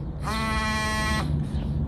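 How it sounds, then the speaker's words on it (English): A Roffie dog training collar in vibration mode gives a steady electronic buzzing tone for about a second, close and fairly loud, then cuts off abruptly, leaving quiet room noise. "If I press this, it's vibration."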